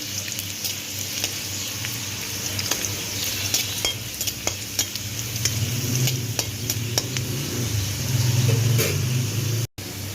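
Broad beans frying with garlic in a pan, a steady close sizzle punctuated by sharp ticks and scrapes of a spatula, with a low hum underneath growing slightly louder toward the end, no talk.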